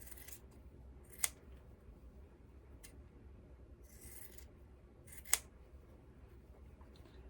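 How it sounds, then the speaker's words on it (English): Scissors snip quilt fabric close to the seam line, giving a few soft, short cutting rasps and two sharp clicks of the blades, faint and close against a quiet hum, with no talking. "I'm just going to take my scissors and I'm going to cut that about 1/4 inch away from my seam line on all 4 of them"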